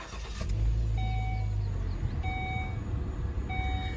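A 2015 Volvo XC70 T6 engine cranks and catches, then settles into a steady low idle. Repeated chime beeps sound over it, heard up close inside the car with no talk.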